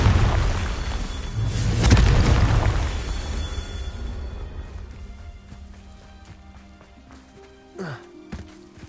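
A Confringo fire spell goes off in Hogwarts Legacy with a loud booming burst near the start that rumbles and fades over several seconds, followed by a sharp shorter blast near the end.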